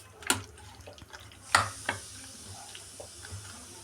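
Marinated chicken pieces for chilli chicken are mixed by hand in a bowl: a few wet squelches and clicks, close and fairly soft, against a low background hum.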